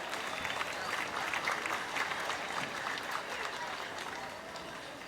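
Crowd at a junior gilt pig show ring applauds the young exhibitors, a fairly faint, even wash of clapping that continues steadily and tapers slightly toward the end.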